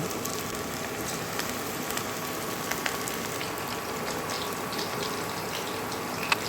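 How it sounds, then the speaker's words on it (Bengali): Coated chicken pieces frying in hot oil over a low flame, a steady, even sizzle with faint crackles running throughout and no voices. "যেগুলো কোটিং করা মাংসগুলো একটা একটা করে এই গরম তেলের মধ্যে ছেড়ে দেবো এবং হালকা আঁচে ভালোভাবে ভেজে নেব।"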